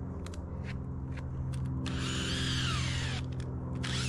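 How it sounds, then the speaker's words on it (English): A power drill bores into a dead, unhealthy tree stump, its motor whining in short bursts before a longer steady run of cutting, close and loud against a low background rumble. "You can tell by the shavings and how easy the drill goes in that it's not a healthy stump"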